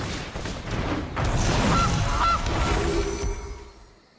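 A loud cartoonish goose honk sounds in the card game MTG Arena, a couple of brassy honks over a booming impact that fades out.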